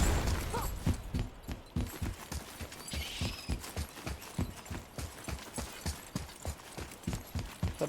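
Steady clip-clop of horse hooves at a walking pace in a video game, regular and fairly close, continuing throughout with faint background ambience.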